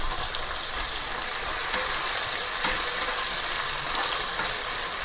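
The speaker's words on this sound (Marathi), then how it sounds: "त्यानंतर मी इथं कांदा टमाटर टाकणार आहे।" Chopped onion and tomato sizzle in hot oil in a frying pan, a steady bright hiss with faint crackles that holds evenly throughout.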